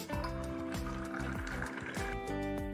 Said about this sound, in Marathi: आणि पाणी टाकून घेऊ।